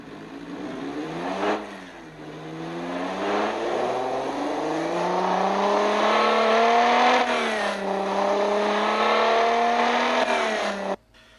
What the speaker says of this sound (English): Batman pulls out of the space that he was parked in and begins shifting gears on the new 5-speed semi-automatic transmission as the car was picking up speed